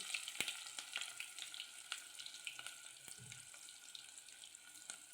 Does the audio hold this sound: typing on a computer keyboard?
no